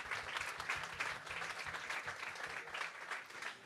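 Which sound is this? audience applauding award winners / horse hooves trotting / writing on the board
audience applauding award winners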